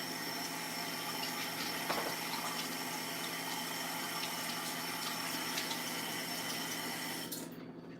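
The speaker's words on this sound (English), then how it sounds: "Okay, so now I gotta rinse these." Tumbled rocks are rinsed under steady running water, a continuous close hiss and rush with a faint pump-like hum, easing off near the end.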